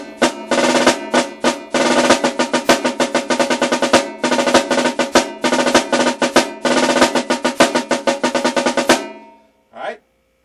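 A snare drum plays the Connecticut Halftime rudiment in repeated rapid bursts of crisp strokes with accented hits and short gaps, close and loud for about nine seconds before a final lone hit after a pause.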